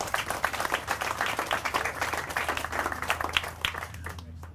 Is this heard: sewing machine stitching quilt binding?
no